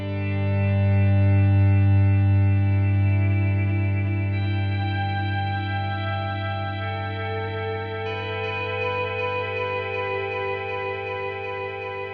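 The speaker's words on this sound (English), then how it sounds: "if you crank the feedback knob all the way up, it will make some crazy sounds" Guitar delay pedal with the feedback knob cranked, a sustained tone multiplying into dense, self-repeating echoes that swell loud and gradually build into a thick, shimmering wash, alone with no voice.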